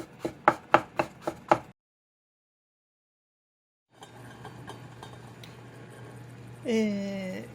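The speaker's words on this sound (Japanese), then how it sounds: "細く千切りにします。" A knife finely shreds summer orange peel for marmalade on a board, about five quick sharp strokes, then a pause of silence before a low steady hum and faint kitchen clatter.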